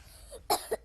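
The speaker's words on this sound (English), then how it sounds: "If the child is coughing forcefully, she's still getting oxygen." A child coughs forcefully in a choking first-aid scenario, two sharp, close bursts in quick succession.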